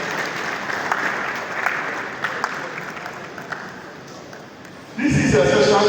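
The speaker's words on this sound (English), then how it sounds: "Can we clap for the university?" Audience applause at a university lecture on the University of Ilorin campus, steady clapping from a large crowd that swells louder near the end, with some talk faintly underneath.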